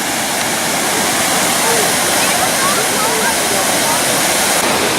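Loud, constant roar of Cumberland Falls nearby, a dense wash of rushing water with no breaks throughout.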